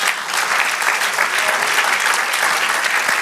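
A church congregation applauds loudly and continuously, many hands clapping in a dense, sustained wave with no speech over it.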